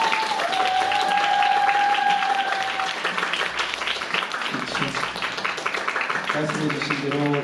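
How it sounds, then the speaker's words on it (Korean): An audience applauds a guest at a Korean talk show event at T Factory in Seongsu, steady close clapping filling the room for several seconds, with a host's voice speaking over the end. "여러분 큰 박수 한번 부탁드리겠습니다"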